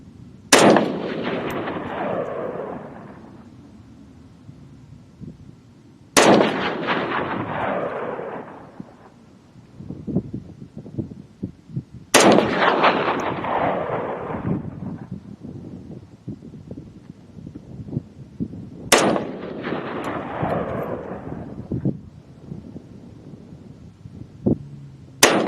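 An SKS rifle built as a DMR fires at an outdoor shooting range: four loud, sharp gunshots spaced roughly six seconds apart, each with a long booming decay, over faint wind and background noise.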